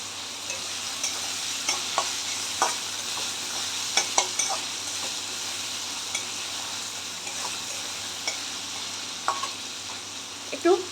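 Onions fry in a pan for chicken keema stuffing, giving a steady bright sizzle with soft, irregular scrapes and taps from stirring throughout, and no voices.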